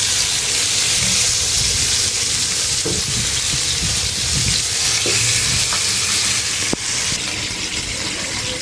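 Pangas fish frying in a pan on a gas burner outdoors in wind, a steady dense sizzle running throughout with a few faint clinks and a brief sharp tap near the end.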